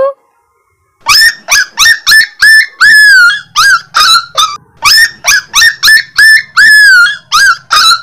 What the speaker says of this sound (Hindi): ये पप्पी मेरा पीछा नहीं छोड़ रहा